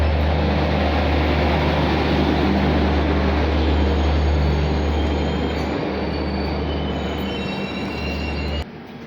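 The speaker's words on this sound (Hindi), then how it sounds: "ट्रेन अपना प्लेटफॉर्म छोड़ रही है।" Kerala Rajdhani Express pulling away from a station platform, a loud continuous rumble of rolling wheels and carriages with faint high wheel squeals, close by and steady throughout.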